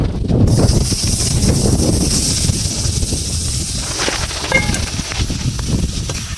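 Chicken pieces dropped into a hot pan with chilli powder for chicken sahajiya, giving a loud, steady broadband sizzle and hiss that continues throughout with faint stirring clatter.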